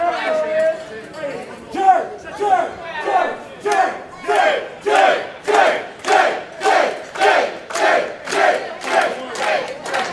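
A wrestling crowd at an independent show in an arena builds into a rhythmic chant, voices rising and falling in regular loud pulses, with a commentator talking near the start.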